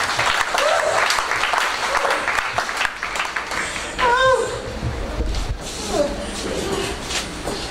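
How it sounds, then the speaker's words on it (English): A church congregation claps steadily throughout, a dense, continuous wash of applause with faint voices and a few tonal calls rising through it. "Everybody clap for Jesus."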